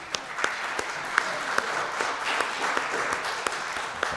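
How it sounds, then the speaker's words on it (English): Church congregation applauding the choir during a Sunday service, steady warm wash of many hands clapping with a few sharper claps standing out, fairly close and even throughout. "Let's give them applause."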